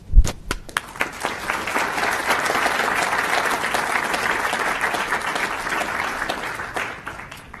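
An audience at a school board meeting applauds JROTC honorees, a few sharp early claps quickly building into sustained, steady applause from the room that holds for several seconds before fading.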